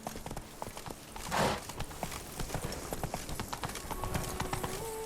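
Roach, the horse in The Witcher 3: Blood and Wine, galloping with rapid rhythmic hoofbeats close by over a faint ambient music bed, and one brief whoosh partway through.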